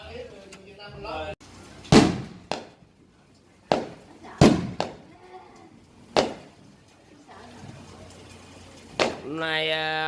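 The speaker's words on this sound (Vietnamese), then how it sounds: "bây giờ người ta bắn pháo bông nha mọi người" Fireworks set off outdoors in Florida during an evening get-together, heard as a series of sharp, loud bangs spaced a second or two apart, some with crackling tails, while people talk in Vietnamese nearby.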